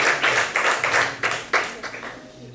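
A church congregation claps in quick rhythmic bursts, roughly evenly spaced, with a voice faintly audible beneath the clapping.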